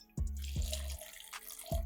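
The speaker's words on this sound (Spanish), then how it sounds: "Ahora vamos a servir agua 125 mililitros, lo equivalente a media taza." About half a cup of water poured into a kitchen blender jar, close splashy pouring in a few short bursts with brief pauses between them, no talking.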